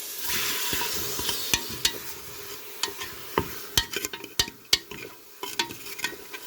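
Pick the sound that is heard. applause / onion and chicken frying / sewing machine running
onion and chicken frying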